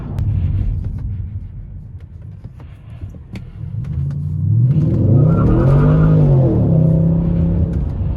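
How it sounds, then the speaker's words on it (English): A BMW 650i accelerating hard on a damp road, a loud engine roar climbing in pitch through the gears, with a faint tire squeal from wheels fighting for traction, heard alone without talk. "Tires are pretty grippy, but like I said, it's a bit damp out, so they are fighting for traction. That's why they're screaming a bit."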